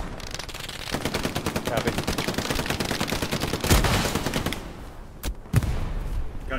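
Rapid gunfire and machine-gun bursts from the World War II shooter game Hell Let Loose crackle continuously, with a few louder close shots, while players talk briefly over it.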